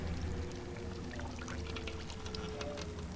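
Wet ingredients poured into pandan steamed layer cake batter, a soft continuous liquid pour and trickle close by under faint kitchen background.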